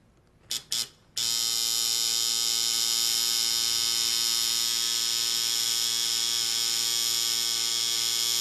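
A tattoo machine runs a line on skin, with a few short buzzing bursts at first, then a steady, loud, continuous electric buzz with a strong mains-like hum.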